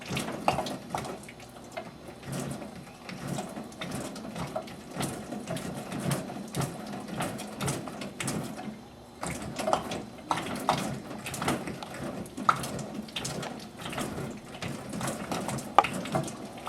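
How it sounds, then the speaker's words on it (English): Water spits and sputters irregularly from a WaterMax H3500 reverse-osmosis filter housing after a filter change, a faint, uneven hiss broken by small gurgling bursts and pops. "So you will get a lot of spitting and sputtering and discoloration."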